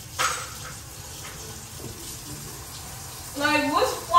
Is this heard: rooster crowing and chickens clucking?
no